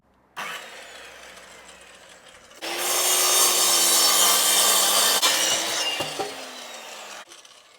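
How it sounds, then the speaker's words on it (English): A Makita saw cutting timber for a DIY koi pond job: a lower running hum first, then a loud, steady rasping cut for about four seconds that tails off before the motor stops. "get this timber cut, get on the Makita and crack on"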